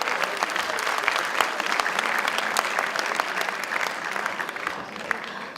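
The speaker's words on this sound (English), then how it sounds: "Please give yourselves a big applause." Conference audience applauding, a loud, dense wash of many hands clapping steadily throughout with no break.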